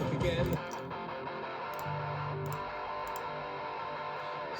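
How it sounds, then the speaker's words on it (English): A finished music track playing back in Pro Tools, with reverb added on an auxiliary channel, gives a dense, continuous mix that sustains at steady loudness after a stronger opening moment. "So you can hear the reverb on the auxiliary channel if I do that."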